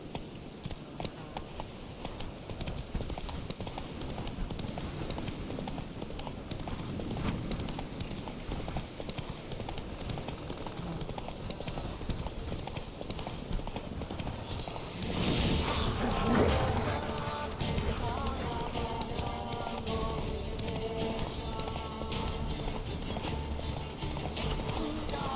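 Roach the horse galloping in The Witcher 3, a fast steady clip-clop of hooves that grows louder and busier midway, joined by a brief whinny and faint talk underneath.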